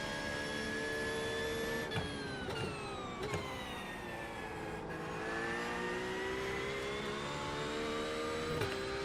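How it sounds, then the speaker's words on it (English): A Porsche race car with straight-cut gears in the iRacing simulator gives a steady high engine note with gear whine, dipping briefly at several gear changes, with no voices. "How much do you love the sound of that straight cut gears, though?"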